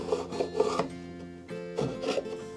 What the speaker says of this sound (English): I cleaned up the glue excess using a chisel.